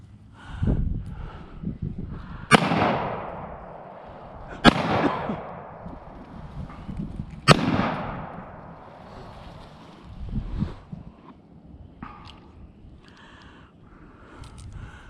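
A Taurus G3C pistol fires three sharp, loud shots outdoors, spaced a few seconds apart, each followed by a short echo over light wind noise.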